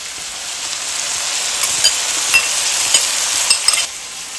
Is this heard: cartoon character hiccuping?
no